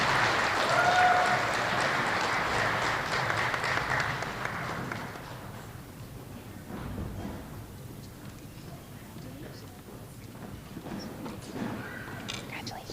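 An audience at an elementary school student-of-the-month ceremony claps for second grade students, a loud burst of applause that fades after about five seconds into quieter room noise with scattered sounds.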